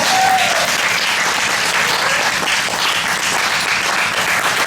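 An audience at an outdoor poetry stage event applauds warmly after a reading, a loud continuous burst of many hands clapping that holds steady from start to finish.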